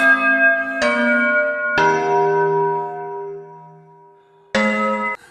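Several ringing bell dings, each a bright metallic strike with a long decaying tone, the last struck after a pause.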